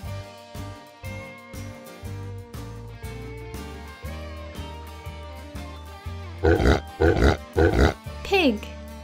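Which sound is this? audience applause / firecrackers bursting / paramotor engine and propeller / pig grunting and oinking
pig grunting and oinking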